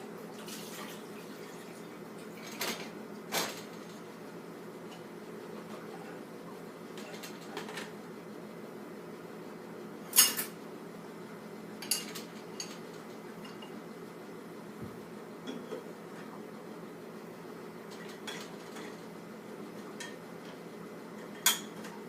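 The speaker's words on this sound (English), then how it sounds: "Step 4 is putting the smaller items in the top of the rack. So that would be like stuff like cups, mugs, spatulas, bowls, and lids." Cups, mugs, bowls and lids are set into a dishwasher's top rack, giving sparse, soft clinks and knocks spread across a quiet kitchen background, with one sharper clatter partway through.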